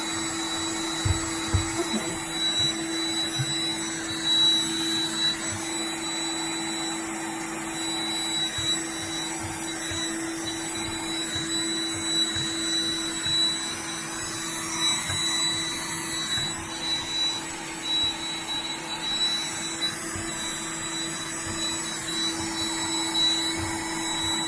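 A Roomba robot vacuum cleaner runs continuously close by, with a steady motor hum, a high whine and some irregular bumping and rattling underneath.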